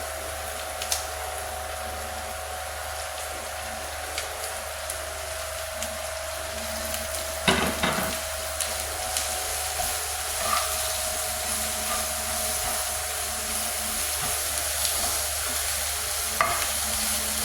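Beans being stir-fried in a pan, a continuous sizzle with spatula stirring scrapes and a short clatter midway, steady and close throughout.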